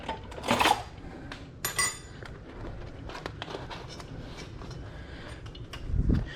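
Metal fork scraping and clinking against a pan-fried ribbon fish as its bone is pulled out, a few sharp taps amid quieter rustling.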